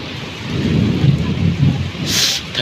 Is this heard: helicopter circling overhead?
no